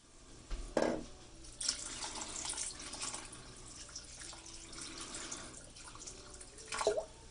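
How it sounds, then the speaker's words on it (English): Water poured into a crock pot over curry ingredients such as turnips and mushrooms, a soft, faint running and splashing trickle with a couple of brief louder gushes. "I'm going to add water till it just barely covers everything in the crock pot."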